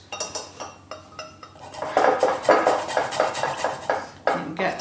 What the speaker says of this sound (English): So I'm going to scrape those first.